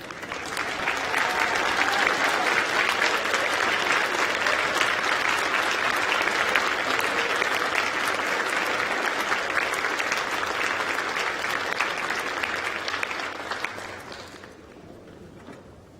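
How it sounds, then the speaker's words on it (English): Graduates at a University of York graduation ceremony in a hall clap and cheer for their supporters, producing a long, loud, dense wave of applause that carries on steadily and then fades away near the end. "cheer and clap."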